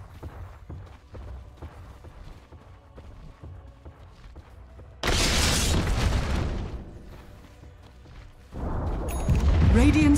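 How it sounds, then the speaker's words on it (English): A Dota 2 tower collapses in the video game: a loud, rumbling, crumbling burst breaks over quiet in-game ambience, and a second heavy burst follows shortly after. "Radiant's top tower has fallen"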